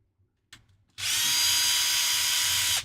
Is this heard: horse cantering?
no